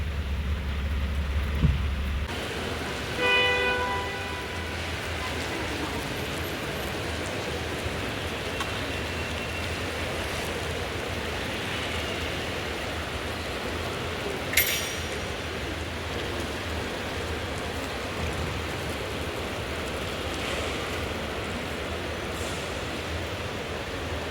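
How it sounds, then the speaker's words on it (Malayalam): Heavy rain falls at an airport car park at night, a dense, steady hiss of rain on surfaces that continues without pause, with a few faint clinks and knocks near the start. "കല്യാണിന്റെ വണ്ടി കിടക്കുന്ന ഇവിടെ നല്ല മഴയാട്ടാ."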